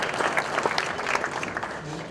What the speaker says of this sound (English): Was there more applause?